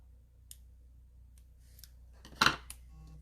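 Small scissors snip through excess paper while trimming a half glue dot for a tiny folded knot in a card craft, one crisp close cut standing out after a few faint clicks, with no talk.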